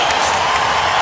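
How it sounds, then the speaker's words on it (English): Basketball arena crowd roaring during an NBA game as Kevin Durant leads a fast break for the Thunder: a dense, steady wall of cheering and applause filling the whole second at high volume. "Listen to the crowd."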